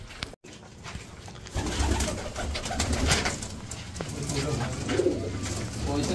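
Pigeons coo softly in low, throaty calls inside a netted pigeon enclosure, with voices talking and rustling noise over them.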